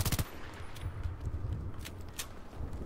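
Blasters fire in Star Wars Battlefront: a sharp opening volley of rapid shots, then scattered single cracks and distant bursts over a steady background rumble, with no talking.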